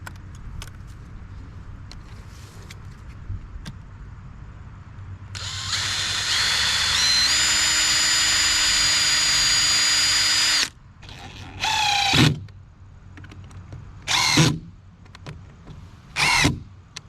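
A power drill drives screws to fix hinges onto a cold frame built from pallet wood, running steadily for several seconds and then in short bursts, close and loud over outdoor background noise.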